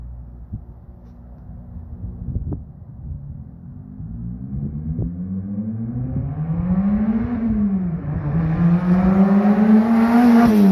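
A turbocharged Toyota MR2 Spyder makes a flyby, its engine note starting low and distant, then climbing and swelling steadily louder as it revs and approaches, with no talk over it.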